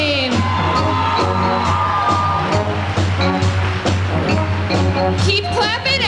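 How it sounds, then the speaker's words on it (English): A concert audience claps and cheers loudly for cheerleaders, with whoops and yells rising over music and a crowd roar that continues throughout. "Keep clapping and have a great big cheer for those Spartan cheerleaders"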